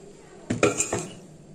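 Fried eggplant is lifted out of an air fryer basket, giving a short cluster of three or four metallic clinks and scrapes of the tray and utensil in a quiet kitchen, lasting under a second.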